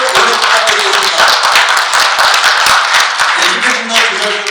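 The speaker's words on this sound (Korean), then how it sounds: "힘찬 박수로 18기를 오늘 부탁드리겠습니다" Loud, close audience clapping at a student council inauguration ceremony, a crowd's hands beating steadily and densely throughout with some voices mixed in.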